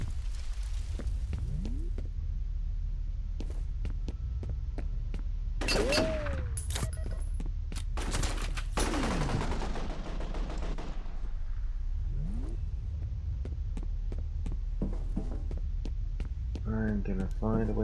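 Gunfire in the video game F.E.A.R. comes as scattered sharp shots and bursts over a constant low electrical hum, with game voices talking briefly near the end.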